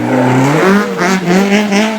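A race car at the Goodwood Festival of Speed drives past loud and close, its engine shifting and revving in quick rising surges with a hint of tire squeal.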